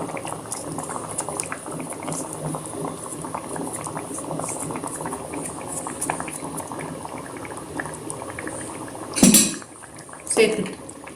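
Tomato-rich paneer butter masala gravy, sweetened with jaggery, bubbles and burbles continuously in a pot. Two sharp clinks of a utensil against the pan stand out near the end.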